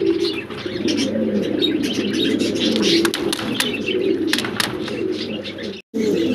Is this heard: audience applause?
no